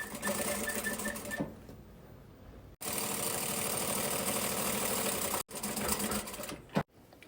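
A sewing machine stitches along the edge of a plastic sheet in loud, steady runs, pausing briefly twice before resuming, with almost no talking.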